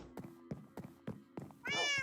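A cat gives a short meow near the end, after a run of soft rhythmic thumps and faint background sounds, fairly close and without talk.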